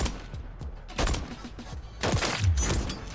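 Gunfire in Call of Duty MW3 Warzone aimed for a headshot: a couple of short, punchy bursts of shots, close and loud against game background noise.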